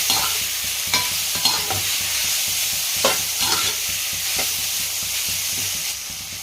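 Red chilli powder, about half a teaspoon, is stirred into cowpea curry frying in a pan, a constant close sizzle broken by repeated spoon scrapes at an uneven pace, with no talk.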